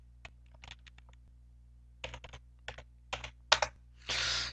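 Computer keyboard typing an Oracle database startup command: close, quiet key clicks in short scattered bursts, ending with a longer rustle, over a faint low hum.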